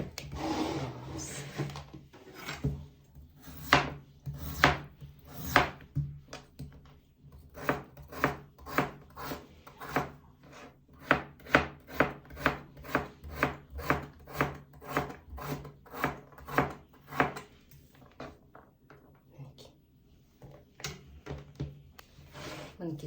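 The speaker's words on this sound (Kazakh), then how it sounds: "Енді көкөністеріміздің бәрін солай майда-майда турап аламыз." Vegetables being finely chopped with a knife on a board for a home-cooked dinner: a long run of quick, even, close knocks in a steady rhythm, pausing briefly once or twice.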